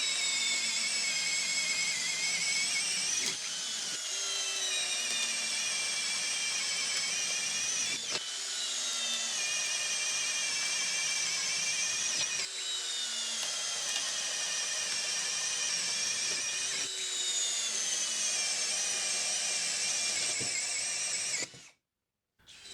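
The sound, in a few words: DCK 12 volt brushless drill, 1/2 inch spade bit through softwood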